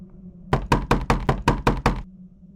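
Eight firm, evenly spaced knocks on a hotel room door, loud and close, with a steady hum before and after.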